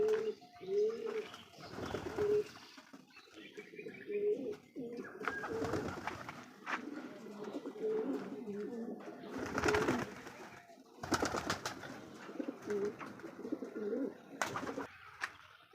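Pigeons in a flying loft cooing close by, repeated low throaty coos layered over each other, broken by bursts of wing flapping and rustling.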